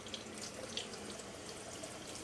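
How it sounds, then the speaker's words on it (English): A kitchen tap runs steadily into a sink, a soft, even splash of flowing water with no voices over it. "Run some water."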